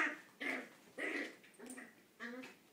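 A puppy whines and gives short yelping barks, five close bursts spaced about half a second apart, fairly quiet and with no talking.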